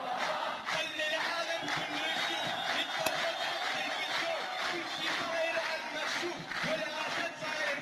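A large crowd of protesters chants and cheers together in a dense, rhythmic roar with rising shouts and possible clapping, heard at moderate distance and continuing throughout.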